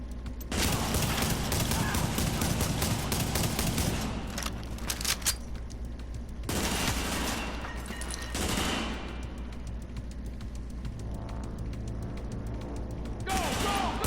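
Suppressive automatic gunfire in Tom Clancy's The Division rattles in dense, loud bursts with short pauses between volleys, including a long opening barrage and a final burst.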